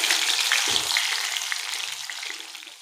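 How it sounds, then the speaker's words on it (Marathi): Soya chunks deep frying in hot oil for soya 65 give a steady, close, dense sizzle and crackle, with a brief low bubbling thump early on, fading slightly by the end. "आता आपण त्यांना तेलामध्ये तळून घेऊया आपल्याला हे सोयाबीन छान क्रिस्पी होईपर्यंत तळायचे आहे"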